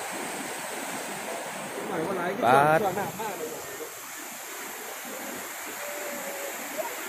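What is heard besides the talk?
strong rushing river water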